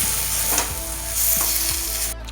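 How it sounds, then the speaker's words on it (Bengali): Bengali egg curry being sautéed with turmeric and coriander leaves in a pan, a close, steady sizzle broken by a few brief spatula scrapes over a couple of seconds, with no voices. "এবার কষিয়ে নিচ্ছে"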